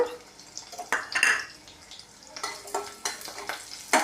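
Light sizzling and crackling of urad dal, mustard seeds and cumin seeds frying in hot oil, with a few stirring scrapes and pops, close up, no talking.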